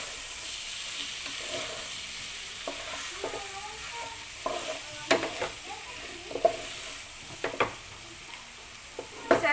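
Goan sorpotel sizzles in a pan while a spoon stirs it, giving a steady frying hiss broken by irregular scrapes and knocks against the pan that grow sharper toward the end, close up and with no talking.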